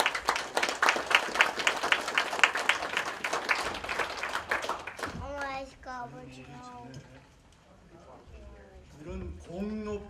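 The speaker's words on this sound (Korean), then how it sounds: "우리 큰 박수 부탁드리겠습니다." At a Korean commemoration of the May 18 Gwangju Democratization Movement, an audience claps in a lively burst for about five seconds, then the clapping gives way to someone speaking into a microphone.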